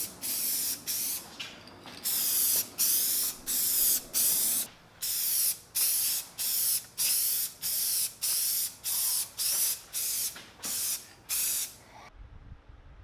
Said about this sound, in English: now I can apply my first coat of